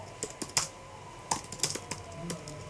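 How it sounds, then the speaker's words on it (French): Typing on a computer keyboard, scattered sharp key clicks in short irregular bursts, close and fairly quiet, with no talk. "communique via son clavier"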